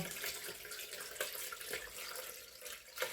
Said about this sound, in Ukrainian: І зараз я їх всі сюди проціжую.